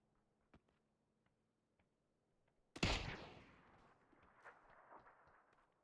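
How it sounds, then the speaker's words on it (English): A single sharp Kar98 bolt-action rifle shot in a competitive esports match rings out loud and close, with a long rolling echo trailing off, after a stretch of faint ticking game ambience. "Shot from the Car 98."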